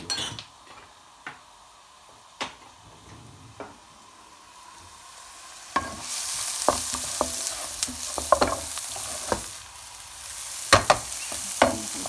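Chopped onions and herbs start sizzling in a hot pot partway through, a steady crackling hiss broken by spoon clinks and stirring scrapes, after quieter taps and clatter.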